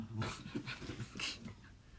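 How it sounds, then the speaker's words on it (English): A pet dog right beside the listener gives a few close, soft whimpering and whining sounds with short breathy bursts, heard alone without talking. "With my dog right next to me."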